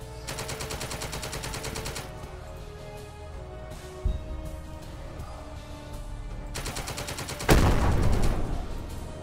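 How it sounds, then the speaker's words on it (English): Mortar fire in the video game The Troop, with rapid clattering gunfire bursts followed by a heavy thudding blast and a rumbling burst of explosions late in the sequence. "Mortar firing again."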